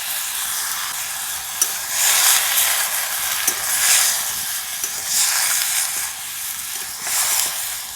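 Ginger added to a frying pan for chicken stew sizzles with a steady, loud hiss that swells and fades, with a few sharp spatula clicks and stirring scrapes and no voices.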